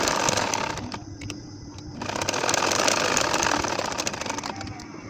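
Machine stitching on a baby nakshi kantha, a sewing machine whirring loud and close in steady runs with brief pauses between bursts.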